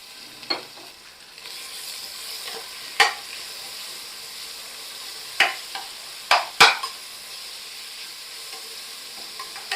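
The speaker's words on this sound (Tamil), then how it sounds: "இந்த வெங்காயம் நல்லா வதங்குறதுக்கு உப்பு சேர்த்துக்குவோம்" Sliced onion frying with a bay leaf and whole spices for mutton biriyani in a pressure cooker, a soft steady sizzle broken by several sharp spoon scrapes and clacks against the pot, no talking.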